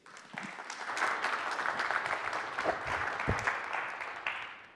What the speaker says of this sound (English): How about a nice big round of applause for Mike Meridith?